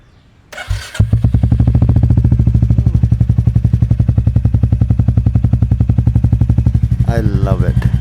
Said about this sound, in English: Let's do the cold start and move to the service center.